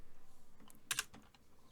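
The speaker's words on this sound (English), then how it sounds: "I'm going to start typing in branch." Short burst of keyboard typing at a computer, a few quick clicks clustered together, quiet and close, with no talking.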